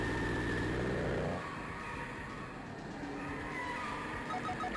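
A car engine roars and revs steadily at high pitch, a sustained turbo acceleration drone in the Sega CD game Road Avenger that holds loud and continuous throughout.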